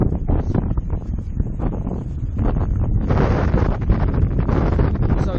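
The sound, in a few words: strong wind blowing into microphone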